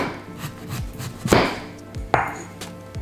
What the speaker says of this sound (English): First, cut some tofu into slices.